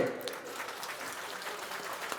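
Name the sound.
audience applause at a political gathering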